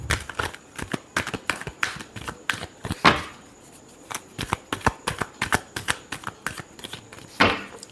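Tarot cards being shuffled by hand in a series of quick riffling, flapping bursts, close and fairly loud, with brief pauses between shuffles and no talking over them.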